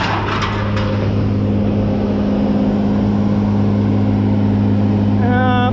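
A scrapyard claw machine runs near a working baler, giving a loud, steady engine drone with a deep, constant hum throughout and a brief whine near the end.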